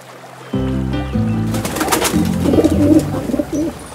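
A pigeon coos in low, throaty, repeated notes close by, followed by softer murmuring calls and a short burst of noise.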